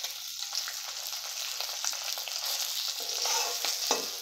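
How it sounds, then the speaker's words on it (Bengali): Egg and salt are stirred in a frying pan, giving a soft, close, busy sizzle with quick scraping stir sounds over a few seconds, and no one speaks. "এইভাবে কিছুক্ষণের জন্য আমি নেড়ে নেব।"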